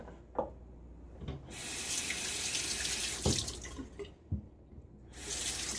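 A tap runs into a sink while a razor is rinsed after a first shave pass. The water stream is close, with short bursts and a few breaks and splashy changes.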